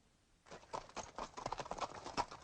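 A wild, unbroken horse clops its hooves in quick, uneven beats after a brief quiet start, fairly faint and with no voices.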